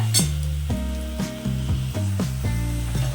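Mustard paste frying in a pan while being stirred, with a steady sizzle under repeated rhythmic scraping strokes against the pan, close and fairly loud, with no talk.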